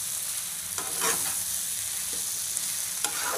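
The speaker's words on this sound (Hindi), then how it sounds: "अब मैंने एग ऐड कर दिया, इसे अच्छे तरीके से मिक्स कर लेंगे।" Egg and potato bhujia sizzles steadily in a pan while a spoon stirs it, with a few distinct scraping strokes rising over the constant frying hiss, close and alone.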